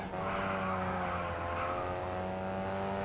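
A race car in the Racing Master video game fires its nitrous boost, a steady, loud, high-revving engine drone that holds through the clip with no talk.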